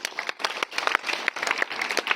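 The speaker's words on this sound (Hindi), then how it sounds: "तालियां" Audience clapping at a Hindi Pakhwada school function at a Jawahar Navodaya Vidyalaya in Sahibganj, a short burst of scattered, uneven claps at moderate level with no voices.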